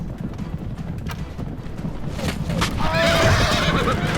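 Horses of horse archers in a Rome: Total War battle between Parthia and Macedon whinny and clip-clop amid battlefield noise, with a voice talking over them.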